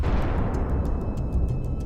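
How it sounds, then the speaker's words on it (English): A Russian tank strikes a mine in a village and explodes: a dense, rumbling low roar that fills the clip and keeps rolling, with faint rhythmic ticks above it. "The tank in the middle hits a mine."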